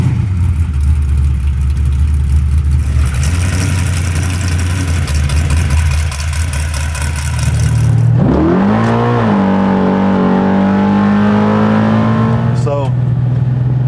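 A 1979 Chevy Malibu street car with a 700R4 transmission sits idling with a deep, loud rumble, then the engine is revved hard and the pitch sweeps up and holds high before dropping back, with voices talking over it.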